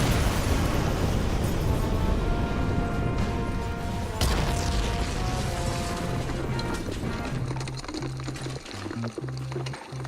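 A loud, sustained roar of a missile explosion fills the whole stretch with dense rumbling and crackling debris, a sharper burst partway through, then a low droning hum emerging as the blast slowly fades; no talking.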